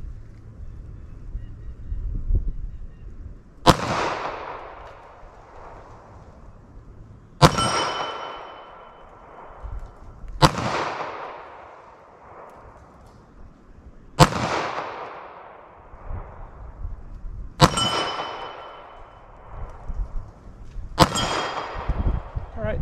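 Six loud, sharp gunshots from a 9mm pistol with a 5-inch barrel are fired into ballistic gel outdoors, spaced a few seconds apart, each with a decaying echo, and wind noise runs underneath.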